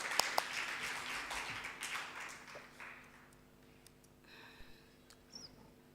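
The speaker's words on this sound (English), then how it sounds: "Let's give a hand of applause as she comes." Audience applause at an antimicrobial resistance awareness event at a Kenyan university, a burst of clapping loudest in the first seconds and fading out, with faint background chatter and a few later taps.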